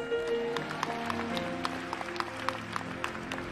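Church congregation clapping during a Sunday service, a faint spread of scattered hand claps with a low rumble of the hall beneath, steady but quiet throughout.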